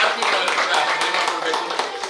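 Applause from an audience at the opening of a unisex salon, a steady wash of clapping while an announcer speaks over it.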